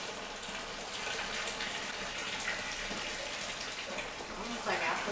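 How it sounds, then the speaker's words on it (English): Grape juice from a home wine-making kit pours steadily into a container, a continuous splashing gush under quiet talk from nearby people. "You can see that juice pour in"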